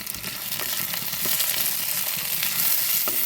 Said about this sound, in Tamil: கடுகு பெருஞ்சீரகம் வெந்தயம் உள்ளி வெங்காயம் கருவேப்பமில ஒரு பச்சை மிளகாய் இவ்வளோ போட்டு இப்போ வதக்குறேன்